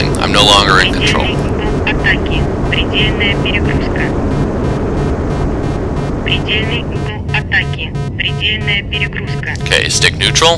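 A jet in the flight simulator LockOn FC2 roars at full afterburner as it stalls and falls, a loud continuous rushing drone with someone talking over it throughout.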